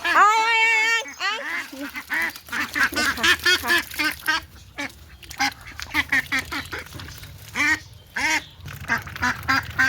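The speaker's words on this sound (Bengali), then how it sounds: "এখানে দেখো হাঁসগুলো খাচ্ছে" Ducks on a farmyard quack repeatedly while feeding, loud and close in dense overlapping bursts, with a brief goose-like honk near the start and a busy, steady rhythm throughout.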